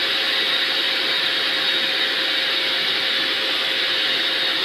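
An electric paint spray gun spraying paint onto a metal chair gives a loud, steady broadband hiss and whine that runs unbroken and close by, with no talking.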